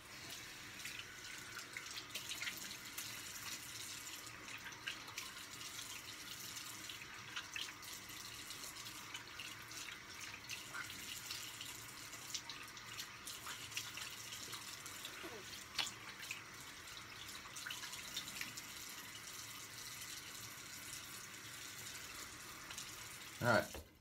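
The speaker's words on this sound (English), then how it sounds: "And cold water wash." A bathroom tap runs steadily into a sink while cold water is splashed onto the face during a shave. The flow is soft and continuous, with faint splashes and drips, and ends in a brief louder knock.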